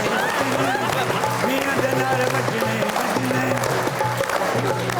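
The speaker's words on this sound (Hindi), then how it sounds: "आप तालियां बजा रही है इस गाने पे" On a Pakistani comedy show's stage, an audience claps along while a song plays, steady rhythmic claps sitting under prominent music and singing for the whole stretch.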